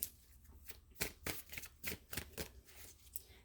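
Halloween tarot cards are riffled and shuffled up close, a steady run of crisp flicking bursts and soft snaps in an otherwise quiet room.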